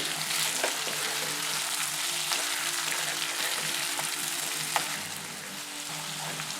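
Chicken and potato curry with spring onions stirred in a pan, a constant sizzle broken by scattered clicks and scrapes of the spoon, close and moderately quiet.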